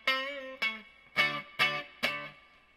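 Electric guitar played through a Peavey amp with cabinet resonance set to tight, five distorted chord stabs in a loose rhythm, each ringing briefly and decaying, close and clear with no talk.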